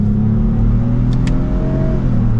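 A 2024 Lexus GX550 Premium Plus accelerating in second gear in sport mode, heard from inside as a steady, loud low engine drone that holds throughout with no talking.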